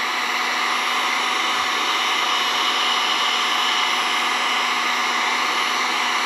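A heat gun applies steady heat to the edges of a NOSO fabric patch, giving a constant close-up blowing hiss with no breaks.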